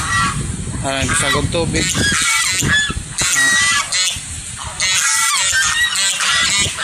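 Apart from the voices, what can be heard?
geese honking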